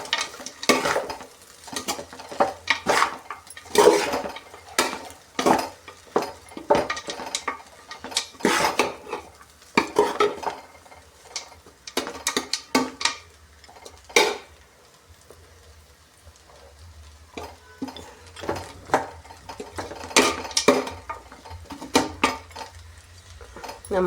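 Chitranna lemon rice being mixed in a pan after a squeeze of lemon juice, with repeated irregular metal spoon scrapes and clinks against the pan, close and clear, pausing briefly midway.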